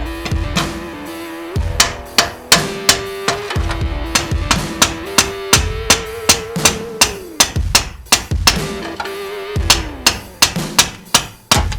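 Gentle hammer taps seat a splined part into a Toyota 4Runner TRD Pro differential, about twenty sharp, ringing hits, close and loud, coming in an uneven rhythm of single blows and quick pairs.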